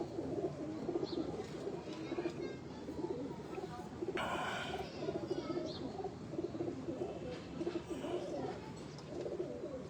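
Jansray breeder pigeons coo softly at a loft in Jhang, with a low murmuring coo beneath scattered chirps, a brief rustle and faint background noise, moderately distant.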